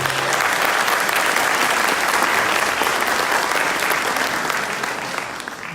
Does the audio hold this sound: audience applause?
yes